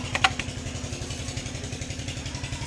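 An engine runs rough with a steady rapid sputtering putter, a low uneven pulsing that stays loud and close throughout, with a few sharp clicks near the start.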